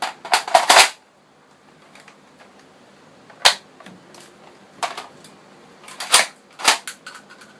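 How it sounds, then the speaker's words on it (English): Tek Recon Havok toy blaster fired on its power setting: a cluster of sharp snapping shots at the start, then single loud cracks spaced a second or two apart, close and dry against a quiet background. "It's not that difficult to fire on the power setting"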